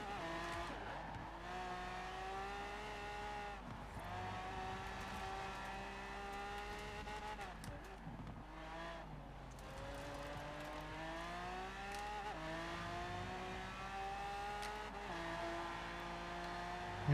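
A Lamborghini Miura SVJ in the racing game Forza Horizon 4 screams through a fast lap, its engine rising and dropping with each gear change and corner and occasional tire squeal, heard alone.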